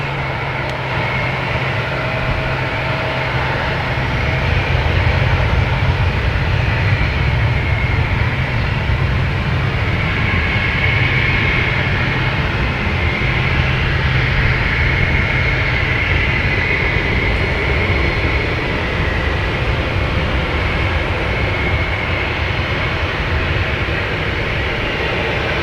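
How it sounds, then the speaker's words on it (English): A Spirit Airlines airliner takes off at Boston Logan Airport, a loud, steady jet-engine roar that holds for nearly half a minute from a nearby vantage point, with no voices over it. "All right, clear for takeoff. Spirit Airlines heading to Detroit."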